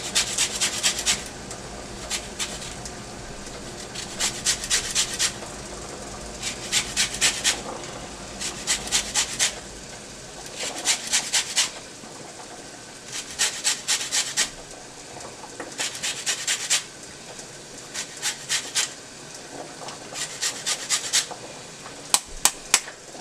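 A lemon is zested on a grater, producing a series of short, crisp rasping strokes in quick rhythmic bursts, close up and alone without talking.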